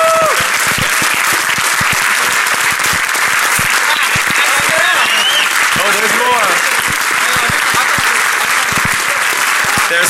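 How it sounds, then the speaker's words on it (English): Loud, sustained applause from a large audience at the DEF CON 21 security conference fills the whole stretch, dense and steady, with scattered voices mixed in. "So please give your strongest round of applause for Mudge"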